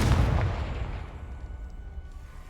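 A fire spell blast in a fantasy wizarding video game, a single loud booming burst at the start that fades into a low rumbling tail.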